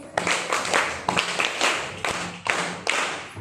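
Audience clapping at a school prayer-song activity, a few hands beating in uneven bursts that rise and fall several times, fairly close and alone with no talk over it.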